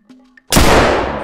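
A single loud rifle shot from the hunting game theHunter: Call of the Wild, fired from a .50 caliber gun, cracks sharply after a brief quiet moment and leaves a long, dense, booming tail.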